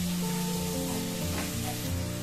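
Onions sauté in a pan for prawn gravy with a soft, constant sizzle, partly buried under a steady tonal backing that sounds like music.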